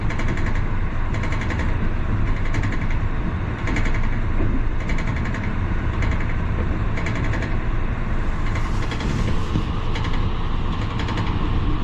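Tezgam passenger train rolling into Jhelum railway station, a steady loud rumble of wheels and carriages with rhythmic rail clatter heard from on board, continuous for about twelve seconds.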